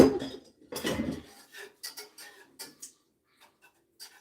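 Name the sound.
stirring Tokyo banana cream filling in a pot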